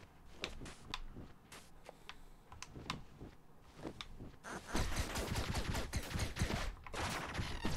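Rapid bursts of gunfire in the video game Owlboy crackle in repeated volleys, growing denser and louder toward the end, with no talking.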